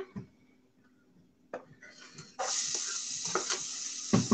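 Onion hits a splash of hot oil and sizzles loudly, the frying hiss jumping up suddenly after a quiet moment and continuing steadily with a few clinks and stirring sounds.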